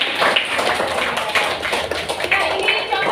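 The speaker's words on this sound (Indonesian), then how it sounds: "Tepuk tangan buat Ayuni yang sudah." Classroom applause for a student who has just delivered a persuasive speech, a dense wash of many hands clapping steadily with a few sharper individual claps standing out, continuous and fairly loud throughout.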